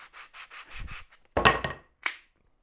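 Short rhythmic scraping strokes of hand sanding on wood, a few quick passes followed by two louder, separate rubs; close and fairly quiet.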